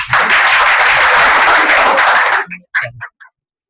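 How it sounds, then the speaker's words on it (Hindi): A class of students claps together, a dense burst of applause lasting over two seconds, then a few scattered late claps trailing off into silence. "इसके लिए ताली एक बार बजा दें।"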